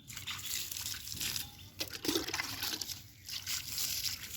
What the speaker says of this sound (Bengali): এই গাজরগুলো জল দিতে এসছি।